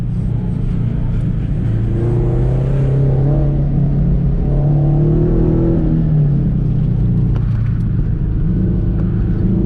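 A Scion FRS accelerates hard at a cold-weather autocross, wheels spinning, its engine revving up loud and close in a rising, falling drone before easing off.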